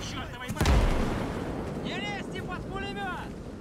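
A mortar round explodes in Call to Arms: Gates of Hell as a single heavy, booming blast. Its rumble lingers under the noise of battle while someone talks over it.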